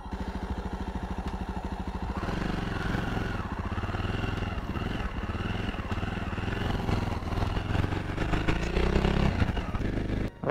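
Jawa 42 Bobber motorcycle engine running close by with a steady, rapid thump while gears are shifted, holding a loud, continuous idle-like rumble throughout with slight changes in pitch.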